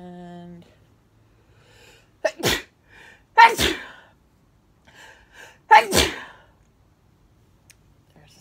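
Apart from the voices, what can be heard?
sneeze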